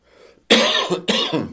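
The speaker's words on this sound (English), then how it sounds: "I'm going to try to clear my throat here" Two sharp, close coughs follow a faint throat-clearing rasp, each burst loud and harsh with a brief pause between.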